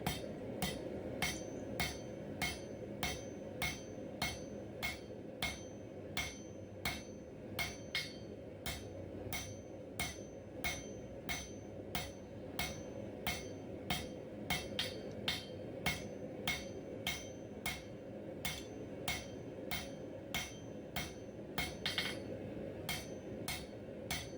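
A blacksmith hammers the edges of a forged steel snake into an octagon, a steady run of sharp, ringing blows close by, evenly spaced across the whole stretch with no talk.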